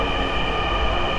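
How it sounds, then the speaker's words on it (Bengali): Metro train running into a station on Dhaka's metro rail, a steady loud rumble of wheels and carriage noise with a continuous hum throughout, no voices. "আমরা দেখছি ট্রেনও ইতিমধ্যে চলে এসেছে"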